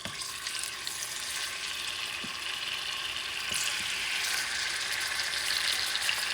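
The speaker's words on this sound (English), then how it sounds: "I'm not going to fry them, I'm just going to sear them" Chicken sears in a preheated pan, giving a steady, moderately quiet sizzle with a faint crackle and an occasional tap or scrape of a utensil.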